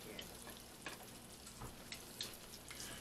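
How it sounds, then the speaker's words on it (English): Chicken frying in oil in a home kitchen pan, a faint steady sizzle with soft crackles and pops throughout, quiet and continuous with no voices. "We're going to let that sit in the oil for a minute until it is cooked."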